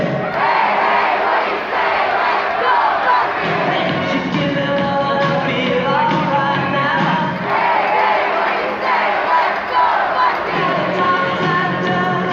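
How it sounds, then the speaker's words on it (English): A hockey arena crowd roars and chants during the Clark Cup Finals, a continuous loud wall of shouting and cheering with a rhythmic, pulsing chant throughout. "Just thought I'd sit back a little bit to let you hear the crowd"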